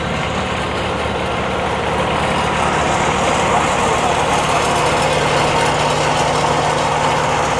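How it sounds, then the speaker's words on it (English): Engines on wood splitter machines idle while warming up outdoors at an open house, a loud continuous rumble with a steady low tone, and faint voices mixed in. "We've already got the machines warming up,"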